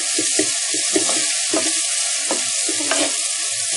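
Onions and curry leaves fry in a pan, a steady bright sizzle with repeated scraping and stirring knocks near the mic, no talk.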